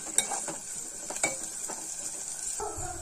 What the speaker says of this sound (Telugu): ఒకసారి వీటిని ఆనియన్స్ని మిర్చిని ఒకసారి తిప్పుకుందాం